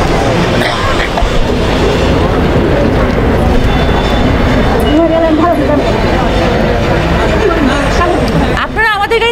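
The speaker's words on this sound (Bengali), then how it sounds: "ট্রেন আসছে" A train arrives at a crowded platform as a sound effect in an audio drama. A loud, continuous rolling rumble plays under a hubbub of voices and speech.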